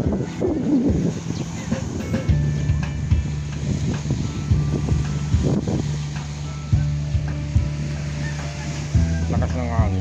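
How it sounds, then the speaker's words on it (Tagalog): Strong wind buffets the microphone by the sea at Calaca, Batangas, a steady rough rumble with boat and wave noise, while people talk intermittently nearby. "Lakas ng hangin."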